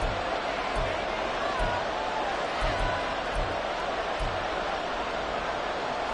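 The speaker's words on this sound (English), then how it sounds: "This crowd turning up the decibel level." A stadium crowd in a Madden football video game roars as a continuous, loud wash of cheering, with rhythmic thumps beneath and a commentator talking over it.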